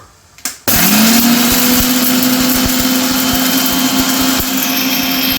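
A kitchen mixer grinder powdering spices starts abruptly and runs loud and steady, a high whirring roar with rattling from the contents, continuing without pause.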